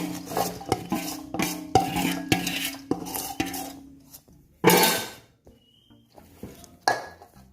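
Whisk or spoon stirring an egg and rice flour batter in a bowl, a rapid run of clinking scrapes against the bowl's side, pausing and resuming a few times, close and fairly loud with no voices.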